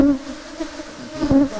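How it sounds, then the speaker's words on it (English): Honeybees buzzing at an open hive during beekeeping work, a steady close hum that swells near the end, with no talking. "You can see clearly that the bees are working very serious."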